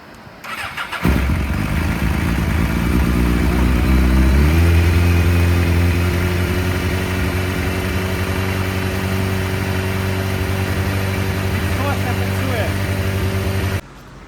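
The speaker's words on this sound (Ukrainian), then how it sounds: "І спробуємо запустити байк." An old Japanese motorcycle engine cranks and fires up, revs briefly, then settles into a loud, steady idle before cutting off.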